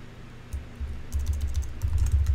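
Keystrokes on a computer keyboard as a command is typed on a PC during a networking lab: a close, fairly quiet run of soft, irregular clicks that grows busier toward the end, with no talking.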